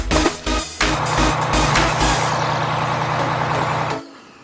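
Toy grabber excavator sound effect, a loud truck-like engine with a hiss of air release and a rhythmic mechanical beat, running steadily before cutting off abruptly.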